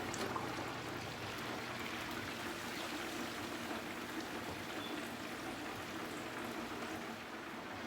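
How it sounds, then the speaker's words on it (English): Hot oil drips from a deep-fried turkey back into the frying pot, making a soft, continuous trickle with fine spattering that holds at a low, even level throughout. "I'm gonna let it drip for 5 minutes, drip all the oil back into the pot."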